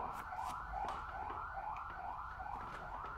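Ambulance-style siren on a volunteer team's vehicle delivering food aid, wailing in repeated rising-falling sweeps about every 0.6 seconds, steady and fairly loud throughout with a low background rumble and no talking.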